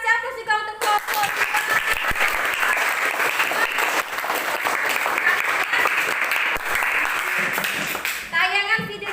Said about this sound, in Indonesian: Kita kasih aplaus juga untuk kelompok